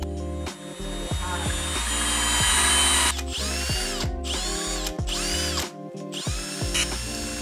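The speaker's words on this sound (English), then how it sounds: "We're using water to cool off the ceramic and to prevent cracking when we're drilling." A power drill whines in repeated bursts, its pitch rising and falling as it bites into wet ceramic cooled with water, with short pauses between passes; close and loud, no talking.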